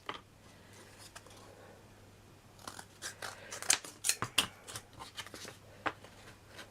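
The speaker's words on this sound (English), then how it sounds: "I'm going to trim this down a little bit because it's just a little house." Scissors snipping through a craft piece for a miniature house, quiet at first and then a quick run of sharp, close cuts clustered in the second half, with no talking.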